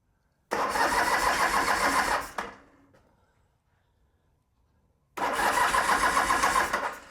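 A Norton motorcycle engine fires up with a loud, rapid, close burst of running for about two seconds, dies away into quiet, then catches again with the same dense, throbbing roar; no one talks.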